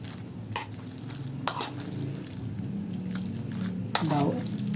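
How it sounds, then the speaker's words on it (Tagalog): Garlic fries in oil in a pan with a low, steady sizzle, broken by a few sharp utensil knocks, while someone talks over it. "Gipry ang bawang pagka medyo brown na yellowish na bawang"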